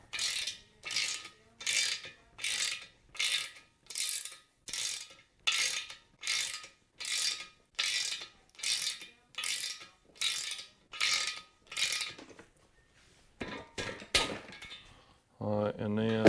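A ratchet turns a 17 mm plug on a 5.3L engine, giving a long run of sharp, evenly spaced clicking bursts that stop near the end, when some metallic clatter follows.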